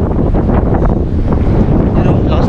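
Strong wind buffets the microphone at a beach in Forster, New South Wales, a loud, steady, roaring rumble that masks everything else, with surf and waves faintly beneath it.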